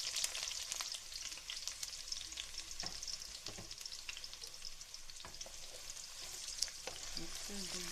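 Sliced onion, one medium-sized, dropped into a hot pan where paneer is browning for palak paneer, giving a soft, steady sizzle with occasional clicks and stirring scrapes, fairly quiet and continuous without talk.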